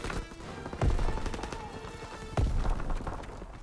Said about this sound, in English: Oh shit, sticky grenade